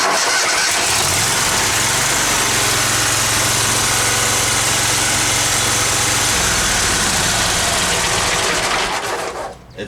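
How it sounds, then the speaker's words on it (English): A Dixon 72 ZTR zero-turn mower engine cranks, fires and runs with a loud, steady mechanical roar close by for several seconds, then shuts off abruptly near the end. "It starts good and it shuts off."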